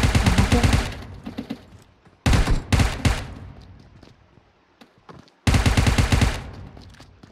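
Gunfire in the mobile battle-royale game PUBG Mobile in war mode: dense bursts of rapid shots crackle loudly, stop for a short gap, return in two shorter volleys, then end with a long final burst, with no talk.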